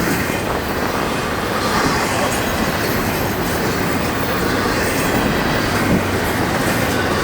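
An FEC freight train rolls past close by, a steady loud rumble of railcars with wheel clatter and occasional squeal running without a break.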